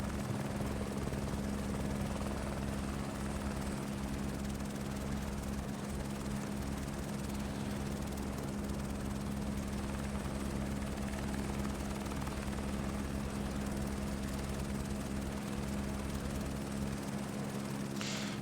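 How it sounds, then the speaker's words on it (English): A helicopter in Microsoft Flight Simulator 2024 drones steadily for the whole stretch, a constant low rotor and engine hum with no talk. "that is my helicopter ride done"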